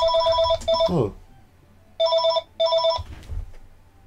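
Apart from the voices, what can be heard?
telephone ringing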